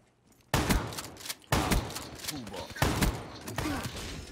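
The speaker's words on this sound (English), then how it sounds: "Oh my god, the shotgun is so good!" Three loud shotgun blasts from Call of Duty: Black Ops 3 multiplayer gameplay, each a sharp boom about a second apart with a short decaying tail, heard up close with faint game ambience between shots.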